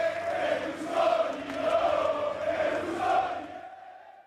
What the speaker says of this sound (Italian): ci sono solo i cori dei tifosi milanisti e un grande applauso ad accompagnare il feretro nel suo ultimo viaggio